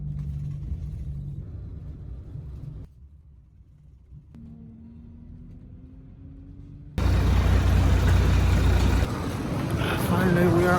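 Steady low engine rumble of a bus carrying passengers to a quarantine hotel in China. The drone shifts in level and ends in a louder, broader roar as it drives on.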